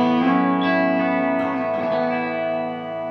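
A sustained electric guitar chord through a cranked Lovepedal COTernity overdrive pedal rings out with a bright, chimey overdriven tone and slight breakup, fading gradually with no talking.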